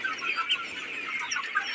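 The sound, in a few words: chickens clucking on a poultry farm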